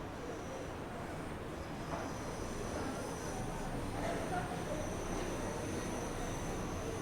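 ScotRail Class 314 electric train departing on the upgraded Glasgow Cathcart Circle in Train Sim World 4, a steady low rumble and hum of wheels and motors holding at an even level throughout, with no voices.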